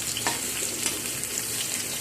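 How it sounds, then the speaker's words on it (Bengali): Pointed gourd (potol) pieces frying in oil in a pan, a steady close sizzle with faint stirring scrapes, continuous and even with no talk. "প্রথমে পটলগুলোকে একটু ভেজে নিচ্ছি।"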